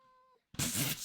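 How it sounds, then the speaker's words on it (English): A cat meows once, loud and close, in a room during a game session, following a faint steady tone. "The whole time, just a cat in the back of my ear."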